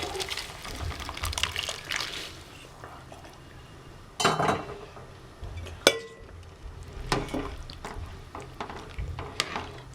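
Boiled vegetables and cooked dal with their cooking water tip into an empty kadai for sambar, giving soft pouring and splashing with a few sharp metallic clinks of utensils against the pan, fairly quiet overall.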